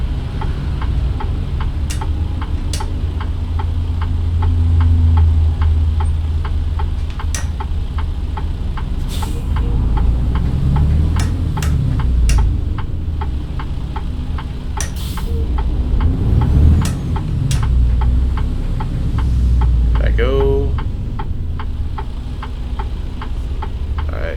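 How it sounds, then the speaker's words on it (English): A first-generation Freightliner Cascadia truck engine from a trucking simulator game drones steadily at a low rumble, with a rhythmic ticking like a turn signal clicking over it and no speech. "I'll let you guys hear the truck as we get back to LA."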